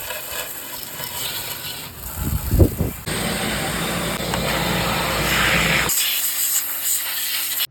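A minibike with its gas line plugged by a bolt is washed down with a water spray. The hiss starts and stops, with a brief splashy dip partway through, then settles into long, steady spraying.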